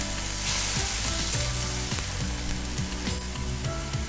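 Grated tomato, ginger and ground spice paste sautéing in a pan, a steady loud sizzle with repeated scraping stirs of a spatula, no voices.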